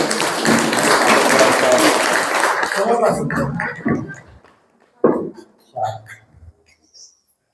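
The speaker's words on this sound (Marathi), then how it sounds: "सगळ्यांनी टाळ्या वाजवून" An audience at a Buddhist scripture-reading gathering applauds loudly and densely for about three seconds; the clapping then fades into scattered voices and speech.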